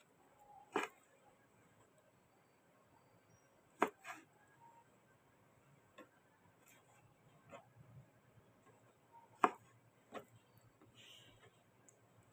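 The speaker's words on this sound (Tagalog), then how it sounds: "I-ready natin yung panghapunan. Hiwa-hiwa muna ng karne." A knife chopping pork meat from a pig's face, heard as sparse, sharp knocks on a board at irregular intervals, fairly close against a quiet background.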